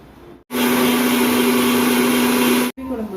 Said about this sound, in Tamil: தேங்காவை அரைச்சி எடுத்துக்கலாம்.